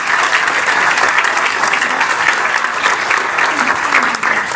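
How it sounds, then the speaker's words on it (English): An audience at the Music Box in Cleveland breaks into loud, dense applause, many hands clapping continuously at close range for several seconds with a few faint cheers mixed in. "so a big round of applause for those guys."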